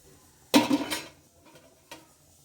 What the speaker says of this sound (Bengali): এক মিনিটের মতো এগুলো মেশাবো